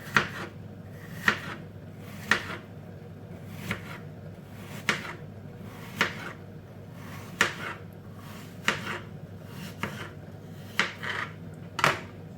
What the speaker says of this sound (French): Et là, je vais la couper.